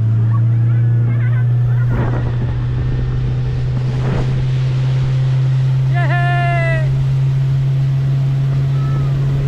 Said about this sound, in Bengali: এখন আমরা স্পিড বোট রাইড করছি